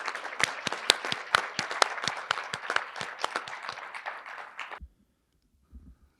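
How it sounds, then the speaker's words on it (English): A small group claps with sharp, distinct hand claps for several seconds at an induction ceremony, then stops abruptly, leaving near silence with a faint low thump. "Let's give all of our inductees a final round of applause."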